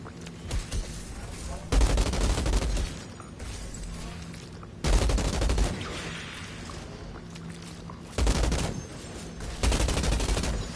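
Blind gunfire in the video game Outriders, loud bursts of rapid automatic fire coming in three separate volleys with quieter gaps between them, mixed with low rumbling background sound.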